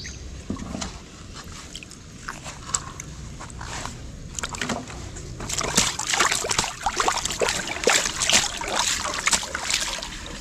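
Small boat, a bangka on a river, moving through water, with sloshing, trickling and splashing close by that grow louder and busier midway.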